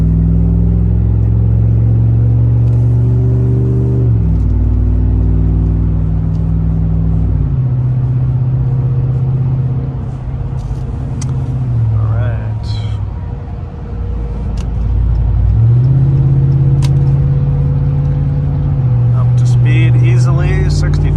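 A car with a Rough Country exhaust drones loudly while driving on city and freeway roads, its engine note rising and dropping through gear changes, with a quieter stretch midway and light rattles and clicks.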